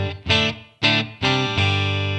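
An electric guitar played through a Headrush MX5 with a small room reverb rings out four strummed chords in quick succession, each sustaining with a gentle room tail, loud and upfront with no voices.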